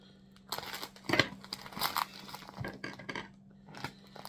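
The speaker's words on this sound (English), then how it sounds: "God, I'm terrible with scissors." A well-packed Vinted parcel is cut open with scissors, giving faint, close crinkling and rustling of packaging in short irregular bursts.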